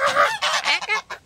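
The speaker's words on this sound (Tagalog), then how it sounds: "Ayan ang ingay. Ayan ang pato." Farm ducks quacking loudly and close by, a quick run of several raspy, honking calls in uneven bursts with brief gaps between them.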